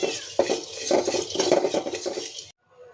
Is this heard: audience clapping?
no